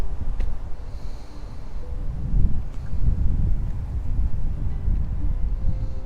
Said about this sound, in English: And the wind comes kicking up here pretty good,